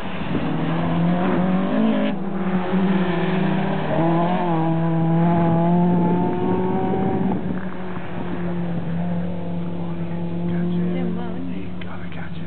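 A Peugeot 205 GTI races at a sprint event at St Eval, its engine droning loudly with rising and falling tones as it accelerates and shifts, under steady wind noise.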